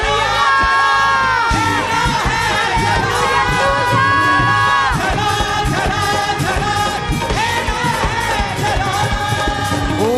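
Church congregation clapping and cheering at a worship service, loud and sustained, with crowd shouts layered under prominent music throughout.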